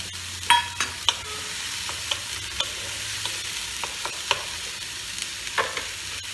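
Onions fry in a pan for an egg korma while being stirred, so a low steady sizzle sits under a dozen or so sharp spoon scrapes and clacks that come in an uneven rhythm, close up and without speech.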